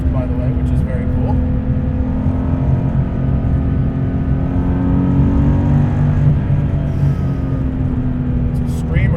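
Guntherwerks 400R, a 431 hp, 2660 lb car, engine pulling with a steady, sustained high-revving drone heard from inside the cabin, loud and continuous, with the pitch shifting slightly as revs change.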